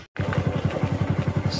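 A motorbike engine idles and putters close by in a steady pulsing rhythm, heading out for a ride, with a brief drop-out near the start and a faint high whine at the end.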